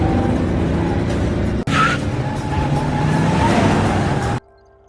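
A police car chase in an action film: loud car engine roar with revving and a brief tire squeal, a short sharp break partway through, then the noise cuts off abruptly.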